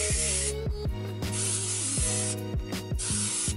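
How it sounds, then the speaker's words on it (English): Crep Protect waterproofing spray is applied onto an Ultra Boost shoe in several close, loud hissing bursts separated by short pauses, with some tonal background music running underneath. "I sprayed our first coat onto the shoe."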